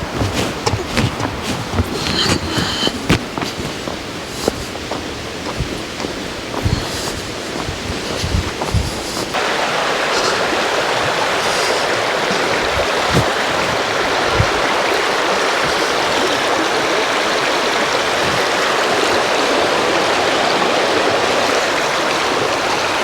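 A river stream rushes steadily at the Meeting of the Waters in Wicklow, a broad, even wash of flowing water close by. Scattered knocks and handling noises come first, then the flow continues alone.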